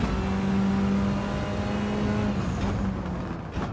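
Lancer Evo 9 engine in a racing video game, a sustained loud drone held at high revs, steady for about three seconds before easing off near the end.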